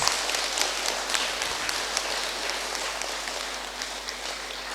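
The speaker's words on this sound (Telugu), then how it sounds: "ఒకసారి గట్టిగా క్లాప్స్ మై డియర్ ఫ్రెండ్స్" An audience at a vegetarian rally event in Nizampet claps steadily, a dense, even patter of many hands continuing throughout, moderately loud and without voices.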